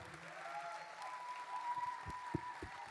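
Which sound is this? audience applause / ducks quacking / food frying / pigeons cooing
audience applause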